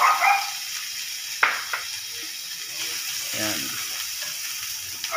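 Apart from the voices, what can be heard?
carrots sautéing in hot cooking oil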